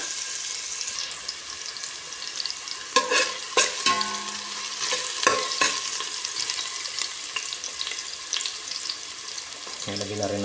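Garlic and ginger sautéing in a pan for squid with bell pepper and carrots, a steady soft sizzle broken by several sharp clattering stirs and scrapes of a utensil.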